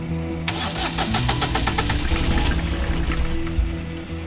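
The engine of a 42-foot steel sailboat cranks and catches after a brief moment, then settles into a loud, steady rumbling run close by.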